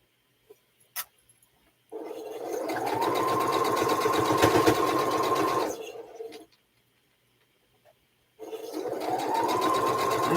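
A Project Runway sewing machine stitches quilt sashing, running in a steady, fast-buzzing burst of about four seconds after a few clicks, pausing, then starting up again; no voices.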